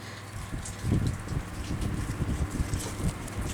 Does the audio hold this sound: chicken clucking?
no